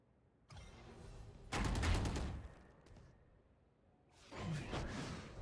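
Gunfire in a tactical shooter video game punches through a wall in two loud bursts separated by a quiet gap, with a brief whooshing effect between them and no talking.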